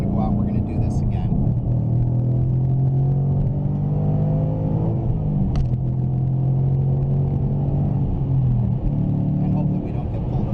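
A 2015 Ford Mustang S550 drives on a street through winding hills, its engine giving a constant deep rumble from inside the car that swells briefly under acceleration.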